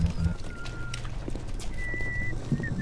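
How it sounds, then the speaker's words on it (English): Faint, thin whistling drifts in and out over a low ambient hum in the video game BioShock Remastered, with a few soft, distant tonal notes and scattered background noises. "I hear whistling."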